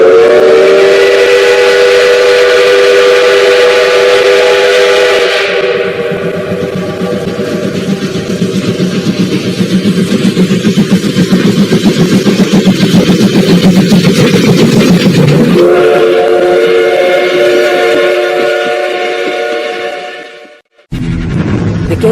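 A loud, sustained steam train whistle blows close by over rumbling rail noise, then fades into a steady chugging roll before cutting off near the end.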